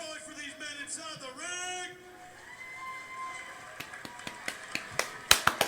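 Soft, polite golf clapping after a boxing match: sparse, quiet individual claps that come faster toward the end, following talk and a whistled tone.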